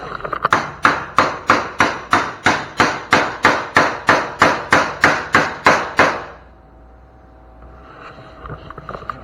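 A sheet steel fender for a square-body truck wagon built from a Radio Flyer is hammered with a steady run of about sixteen sharp, evenly spaced metallic blows, loud and close, ending abruptly into quiet.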